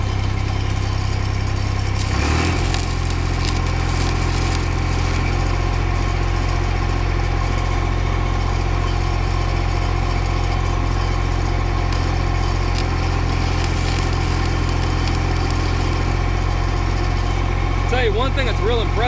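Engine-driven SA250 welding machine running steadily at a low, constant idle drone close by, with a brief change in pitch early on and the engine note continuing unbroken underneath someone talking.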